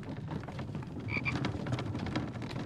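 A frog croaks repeatedly in the survival video game The Infected, a steady run of rough, close calls over soft outdoor ambience.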